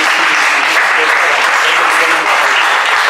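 A church congregation bursts into sustained, dense applause that holds steadily loud throughout, a close roomful of clapping hands.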